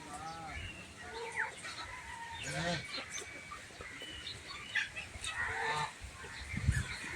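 Fifteen-day-old quail on a farm chirp and cluck in a busy, overlapping flock, the calls moderately loud and continuous, with a brief louder burst near the end.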